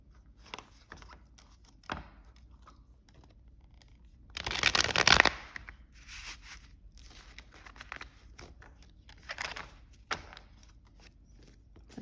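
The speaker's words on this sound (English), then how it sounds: "Let's see how the deck shuffles." A new, stiff Phantomwise Tarot card deck is shuffled close up, with quiet shuffling and handling noises and one louder burst of riffling in the middle, set against near silence.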